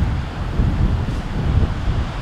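Sea waves roll onto a windy shore, a low continuous rumble of surf mixed with blustery wind buffeting the microphone, loud and close.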